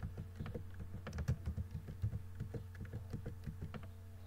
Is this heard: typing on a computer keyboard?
yes